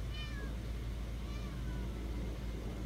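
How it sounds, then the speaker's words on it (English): A cat meows for food indoors, giving a couple of rising, drawn-out calls that stand out clearly over a steady low hum. "Now that I got my food, the cat wants theirs."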